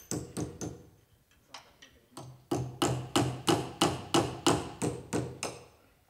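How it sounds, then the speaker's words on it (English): Nails are hammered into the head of a Paratech shoring strut: a few light taps, then a steady run of loud, evenly spaced hammer blows, each ringing sharply. "with Paratech struts, we need to put a minimum of 2 nails in the head."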